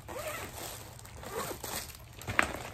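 A zipper slides along a travel bag container, producing a quiet, scratchy zip with a brief sharper pull near the end, heard alone at close range.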